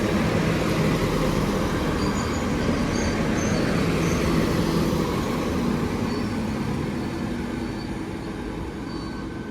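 Three-coach Class 197 unit 197-116 at Shotton station, a continuous heavy rail rumble that holds steady, then eases and fades toward the end, with no talking.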